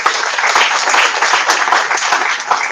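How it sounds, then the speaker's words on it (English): A large audience at an International Women's Day event bursts into thick, continuous applause for the judges, loud and close, a dense wash of hands with no gaps. "The judges truly deserve a round of applause for this."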